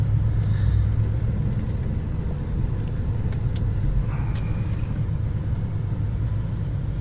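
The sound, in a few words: car driving off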